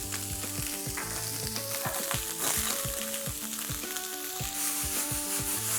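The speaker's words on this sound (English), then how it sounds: "In go the sliced onions and along with this some cumin seeds." Sliced onions and cumin seeds sizzle steadily in hot oil in a restaurant-style home kitchen, a continuous close frying crackle with background music playing throughout and no talking.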